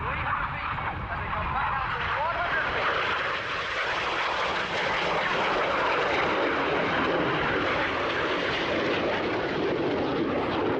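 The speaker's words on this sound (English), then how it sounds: "You've been watching the Royal Air Force Aerobatic Team" Royal Air Force Aerobatic Team jets performing a flying display, a loud continuous broadband roar of engines sustained throughout with a faint voice underneath.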